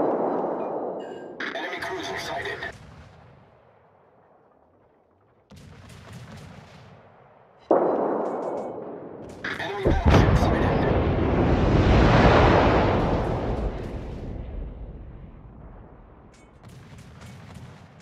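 Warship guns firing in World of Warships, a few heavy booming salvos with rumbling tails over a wash of sea and wind noise, and a voice speaking between the blasts.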